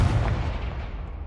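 A Confringo blasting spell explodes in Hogwarts Legacy, giving one sharp, booming burst at the start that fades into a short rumbling tail, with no talking.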